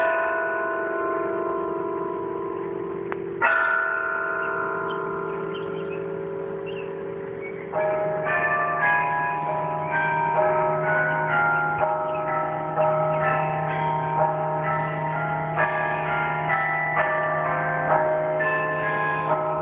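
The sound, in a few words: carillon bells of Century Tower playing a concert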